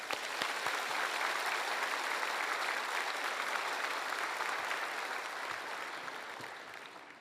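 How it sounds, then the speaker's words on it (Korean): A church congregation applauds warmly to welcome a pastor, a dense, steady wash of many hands clapping from a large crowd that holds for several seconds and then begins to taper off. "지구촌의 따뜻한 박수로 모시겠습니다"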